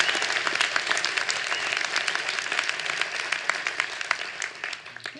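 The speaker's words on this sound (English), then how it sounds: "Let's give them another round of applause." An audience applauds a mariachi band at a State of the City address, with dense, sustained clapping from a large crowd that thins toward the end.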